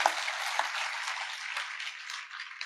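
Audience at a Tamil debate show clapping steadily, a dense even patter of many hands with no voices over it.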